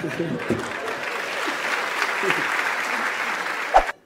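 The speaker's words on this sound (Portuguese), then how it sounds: "salva de palmas para Insider" Applause from a live audience at a Brazilian stand-up comedy show, a steady broadband clapping texture holding for about four seconds with some voices mixed in.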